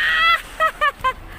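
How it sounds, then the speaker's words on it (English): Birds from a flock of thousands flying overhead honk loudly and close by: one drawn-out call, then three short honks in quick succession, with no talk. "Thousands of birds flying around."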